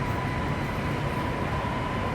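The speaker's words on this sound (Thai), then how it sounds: "อันนี้รถไฟฟ้าเนาะ" A Bangkok skytrain rolls past as a steady, loud rumble with a faint high whine running throughout and no voices.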